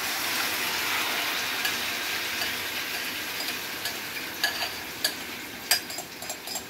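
Marinated chicken going into a hot pan: a steady, loud hiss of sizzling throughout, with a few stirring clicks and scrapes near the end and no talk.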